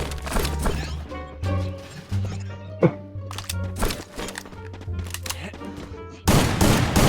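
Shotgun blasts in Free Fire ring out in rapid, irregular bursts amid other gunfire, loud and close, with a sudden louder burst near the end.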